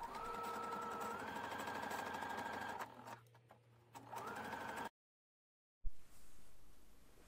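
A domestic sewing machine runs in steady bursts, stitching a seam and locking it with a few backstitches. The whirring is close and loud, with a brief pause partway through, a full stop, then a restart.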